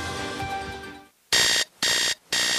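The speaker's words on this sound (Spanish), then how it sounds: "Suena la alarma." An alarm clock rings in three loud, evenly spaced electronic bursts, each about a third of a second long, cutting in abruptly after a fading musical passage ends in a brief silence.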